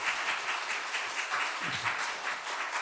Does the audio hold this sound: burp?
no